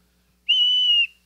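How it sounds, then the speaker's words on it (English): A small toy whistle is blown once, a single steady, bright shrill tone lasting about half a second, clear and close in an otherwise quiet room. "Yeah, I got the whistle."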